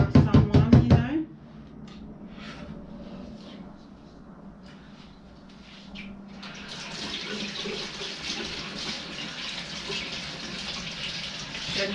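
A few loud knocks ring out as a blender jar is set down after a smoothie. Water from a tap then runs softly at first and swells into a steady hiss and splash as the jar is rinsed nearby.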